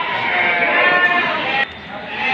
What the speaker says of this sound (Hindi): भाई एक बकरा देख लो